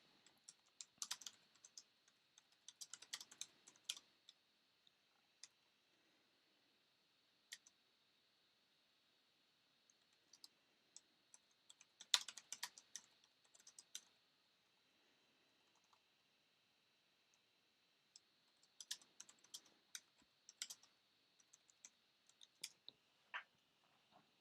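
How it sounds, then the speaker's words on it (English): Someone types on a computer keyboard in quiet bursts of soft key clicks separated by pauses. There is no voice. "I'm going to type it out on the message here."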